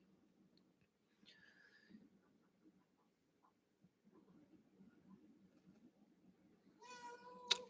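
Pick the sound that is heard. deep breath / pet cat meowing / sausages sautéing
pet cat meowing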